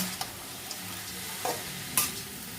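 Greens from a rooftop garden frying in a pan, with a soft continuous sizzle broken by a few scraping stirring strokes, faint and close, with no voices.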